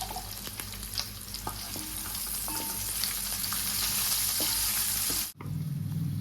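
Chicken, boiled beforehand with turmeric and ginger-garlic paste, frying in a pan for a coriander chicken fry, a dense close sizzle with light scraping stirs, then a sudden short drop and a lower, heavier hiss.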